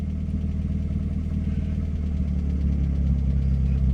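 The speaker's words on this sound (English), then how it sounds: "Settles down to a nice idle" Steady, close idle of a 1954 Triumph TR2 long-door car engine, an even low throbbing rumble with a light mechanical clatter, unbroken and free of speech.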